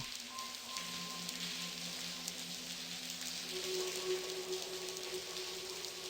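Rain falling in the adventure game The Blackwell Convergence, a steady, soft hiss of rainfall under faint tonal ambience, with no voices.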